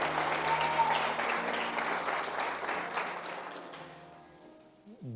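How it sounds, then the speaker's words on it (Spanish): Church congregation clapping loudly in a sustained round of applause that gradually fades out near the end. "Denle un fuerte aplauso al Espíritu Santo."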